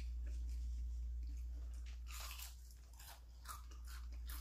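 Close, intimate bites and chewing on a Philly cheese steak, with soft crunches and wet squishing in an irregular rhythm over a steady low background hum, and no talking.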